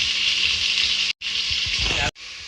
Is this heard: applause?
no